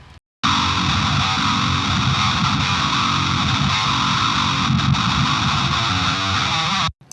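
A single guitar DI signal run through the OTTO AUDIO plugin in mono mode with its current preset, a dense distorted chorused tone sustained loudly and steadily for about six and a half seconds, alone without talk.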